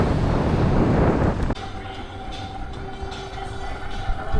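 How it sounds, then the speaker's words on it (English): Strong, steady wind roars against the microphone on a beach, then drops to a lower rush with a faint mechanical hum underneath. "The wind's picked up again. This place is just insanely windy."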